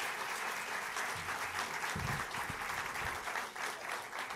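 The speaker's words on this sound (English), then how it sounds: "So a big round of applause for all of you" Audience applause at a policy breakfast during an affordable housing week event in Mountain View, a steady dense wash of clapping throughout, with a few low thumps partway through.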